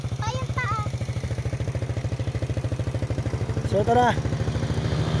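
A motorcycle engine running steadily and close by in a rural Tarlac area, with a low rhythmic pulse throughout while people talk over it.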